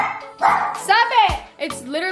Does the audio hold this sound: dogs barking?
yes